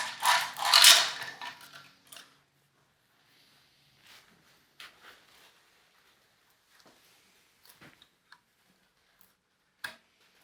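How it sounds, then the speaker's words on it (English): Crankshaft of a BMW B58 six-cylinder engine turned by hand with a ratchet, a burst of clicking and rubbing at the start followed by sparse, faint mechanical ticks and clicks in a quiet workshop. "So I'm going to turn the crankshaft."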